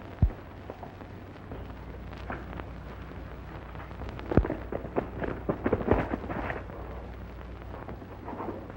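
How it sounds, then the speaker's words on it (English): An explosion in an old western frontier town: a sharp boom near the start, then a louder crack midway followed by several scattered bangs and crackling over a low, steady rumble, with no voices. "Sounds like an explosion."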